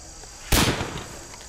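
Civil War percussion cap musket fired once: a single sharp, loud report with a brief rumbling tail fading over about a second.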